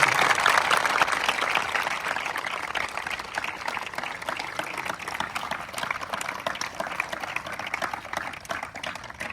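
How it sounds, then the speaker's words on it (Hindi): Crowd applause follows a call for loud clapping at a welcome ceremony honouring a naval trainee back from INS Chilka, a dense steady patter of many hands sustained throughout, fairly close and unbroken, easing slightly toward the end. "आप लोग जोरदार तालियां बजाएं"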